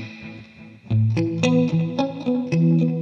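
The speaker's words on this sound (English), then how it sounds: "Okay, put some delay in." Electric guitar notes ring out with a delay effect from an IK Multimedia iRig Stomp I/O, each picked note echoing and overlapping the next in a steady, spacious rhythm.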